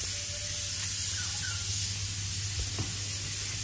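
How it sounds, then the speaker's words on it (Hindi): A steady hiss and sizzle of milk boiling over onto a hot stovetop, with faint soft clinks in the background. "ओहो दुध उबल गया जी, देखो"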